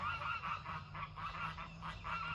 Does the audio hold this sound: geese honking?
yes